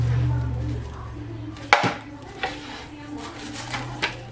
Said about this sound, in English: now I'm going to chop up some cabbage in here